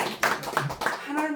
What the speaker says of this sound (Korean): 박수 한번 좀 보내주세요.